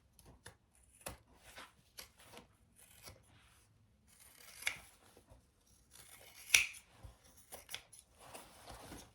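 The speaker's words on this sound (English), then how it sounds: "I am going to trim that a little bit." Scissors trimming the fabric seam allowance on a crossbody bag: a scattered series of quiet, close snips and soft rustles of cloth, with no talking.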